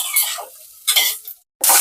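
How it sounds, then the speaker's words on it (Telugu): Chopped onions are stirred and fried in a spoonful of oil in a pan, giving bursts of close sizzling and scraping that come and go, with a short silent gap between them. "ఇంకొక స్పూన్ ఆయిల్ వేసుకొని మనం కట్ చేసి పెట్టుకున్న ఉల్లిపాయలు ఫ్రై చేసుకోవాలి"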